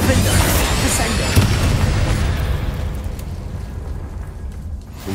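Spell blasts hitting spiders in the video game Hogwarts Legacy: a loud, dense run of booming bursts and crackling impacts that gradually thins and fades over a few seconds.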